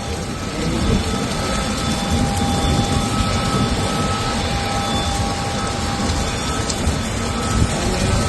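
Heavy rain pours steadily at Kolkata airport, a dense continuous roar with a faint engine-like drone beneath it, no voices.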